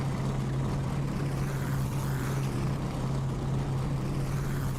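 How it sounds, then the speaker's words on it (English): A steady, loud race car engine drone in a sim racing video game holds throughout, a constant low hum with a rough mechanical roar and no pauses or talking. "Gotta love those engines, man. Love the way these things sound."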